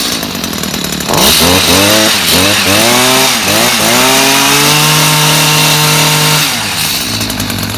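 The small two-stroke petrol engine of a STIHL HS45 hedge trimmer sputters, then revs up and down in several loud bursts before settling into a steady drone and dropping back to idle.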